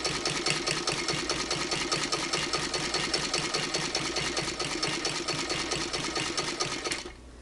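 Hand-crank sewing machine on a kitchen sewing table stitching quilt binding, a continuous rhythmic mechanical chatter of fast, even needle strokes, loud and close, stopping abruptly near the end.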